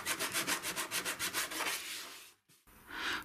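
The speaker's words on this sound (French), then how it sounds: "À certains endroits, je force le ponçage pour arriver jusqu'au bois, et particulièrement sur les arêtes et les coins du coffre." Painted wooden chest being hand-sanded down to bare wood along its edges and corners, a close, rhythmic back-and-forth rasp of about a dozen quick strokes, then a longer rub after a short pause.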